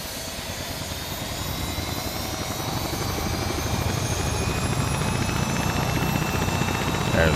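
Helicopter engine in a video game spooling up, a steady whining turbine drone with rising tonal whine that grows slightly louder over several seconds, heard alone without talk.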